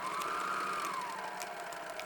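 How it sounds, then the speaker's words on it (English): An overlock serger stitches along the raw edges of fabric for a beginner skirt, giving a steady, continuous mechanical whir with a slowly shifting pitch, up close and with no voices. "Or if you have it, you can use an overlock or a serger."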